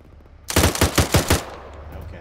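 Video game gunfire during an ambush: one loud, close burst of about six rapid automatic shots that quickly trails off into a fading echo.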